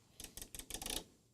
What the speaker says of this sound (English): I hear it clicking relays in the background.